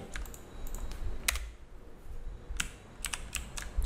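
Keys clacking on a computer keyboard while coding HTML, with scattered sharp clicks and short clusters of strokes over a low background hum, close to the microphone.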